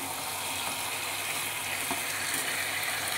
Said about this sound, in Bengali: দেখো কষানো হচ্ছে